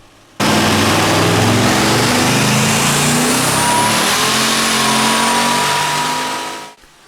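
A twin-turbo Pontiac GTO is revved hard on a dyno, its engine note climbing loud and close for about six seconds as the tires spin, then cutting off abruptly.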